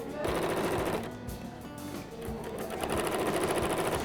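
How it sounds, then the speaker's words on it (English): A sewing machine stitches a quarter-inch seam on a fabric care cap. The rapid mechanical chatter runs in bursts with short pauses, close up and steady. "I'm just simply sewing it all together."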